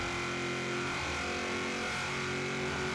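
A Toyota Tundra V8 truck engine drives in Forza Horizon 3, giving a steady, loud, sustained drone with no clear revving peaks or talking.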